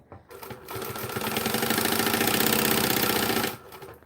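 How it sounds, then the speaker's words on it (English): Sewing machine stitching fabric for a small pouch, one continuous loud rapid rattling run of about three seconds, starting and stopping cleanly, close to the microphone with no talking. "But we're stitching this at 1/8 of an inch on each side."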